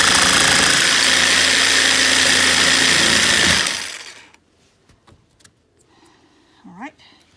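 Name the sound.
jigsaw cutting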